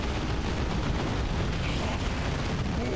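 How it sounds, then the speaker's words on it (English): Bombs exploding on the battlefield in Warhammer 40K: Dawn of War 2 Retribution, a continuous loud rumbling roar of blasts blending into one another without clear gaps. "That's a bunch more bombs than before, huh?"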